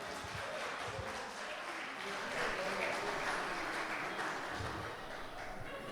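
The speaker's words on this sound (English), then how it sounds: "Just give us a round of applause there" Wedding reception guests give a round of applause for the newlyweds, a steady, moderately distant patter of many hands clapping that swells slightly midway and then holds.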